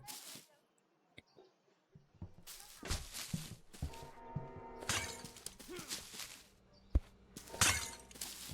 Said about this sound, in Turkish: Atıyorum bir havada kırılıyor.